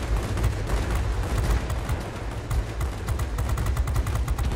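Rapid aircraft guns chatter in World of Warplanes as a D-5 Stuka fights, a continuous loud stream of fast repeated shots over a steady engine drone, with no talking.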